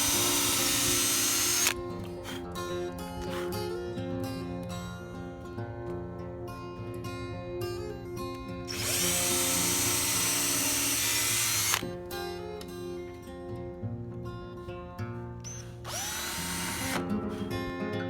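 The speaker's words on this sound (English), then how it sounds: "we attached the top by drilling relief holes and inserting screws" Power drill boring relief holes and driving screws into a wooden dresser top, loud whining bursts alternating with ratcheting driver runs, close and steady with no talk.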